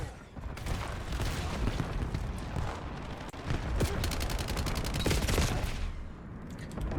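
Dravec gun firing in Call of Duty Black Ops 7, repeated bursts of rapid automatic gunfire with sharp cracks and booms, dense and loud for several seconds before tapering off.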